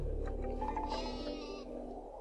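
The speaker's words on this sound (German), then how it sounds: "Ein Schaf." Sheep bleating in the Worms 3D video game, a single drawn-out, wavering bleat that sits loud and close over steady game background noise, with no talk.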